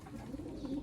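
A red shooter pigeon coos in a brief, low, soft throaty burble, close by and steady, over a faint background with no voices.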